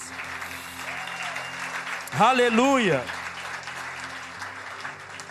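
A church congregation applauds at a worship service, a soft, steady wash of clapping under a voice that rises briefly in a sung or shouted exclamation midway through.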